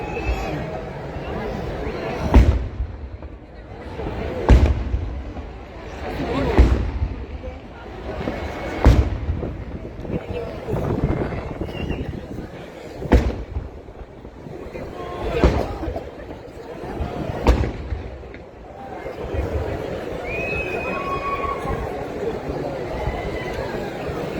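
Firecrackers go off at the Siddaganga Siddalingeshwara temple fair, about eight sharp bangs spaced a couple of seconds apart, cutting through a background of crowd chatter and people talking.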